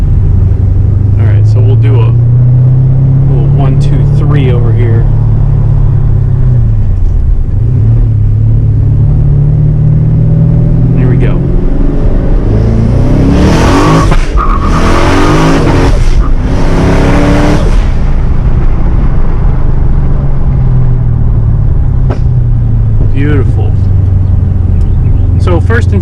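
Twin-turbo Camaro engine revving hard during a test drive, with a deep rumbling idle and a loud surge of rising revs in the middle, heard from inside the car under talk.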